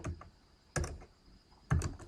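Quiet typing on a computer keyboard, with two distinct clusters of key clicks about a second apart over a faint background hum.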